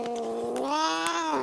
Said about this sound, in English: You silly, silly cat.